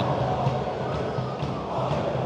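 A football crowd roars at Bolt Arena in Helsinki during a Finnish derby, a dense steady wash of stadium noise with distant chanting and applause blended in, continuous throughout.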